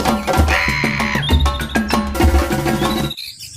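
Bright, bird-like chirps and bouncy musical tones from a mobile game about cleaning farm and wild animals, played loud and continuous before cutting off abruptly.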